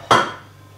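A wok or frying pan is set down in a kitchen with one sharp metallic clank that rings out and fades, followed by a second brief knock at the end; close, with no talking.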